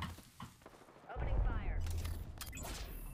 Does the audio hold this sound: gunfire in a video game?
yes